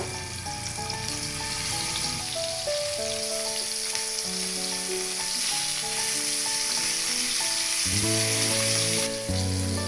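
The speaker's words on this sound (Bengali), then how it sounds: "তেল গরম হয়ে গেছে, এই পর্যায়ে মাছ ভেজে নিচ্ছি।" Hilsa fish frying in hot oil gives a steady, dense sizzle and crackle that carries evenly and loudly throughout, with a sustained tonal music bed layered on top.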